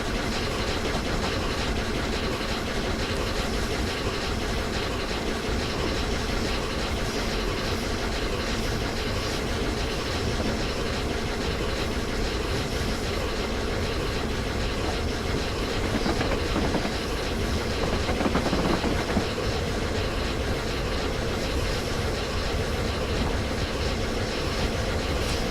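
Flying Scotsman steam locomotive running in Train Simulator on the Bedford to Brighton line, a loud, steady rumble and roar with continuous rail clatter, unbroken for the whole stretch.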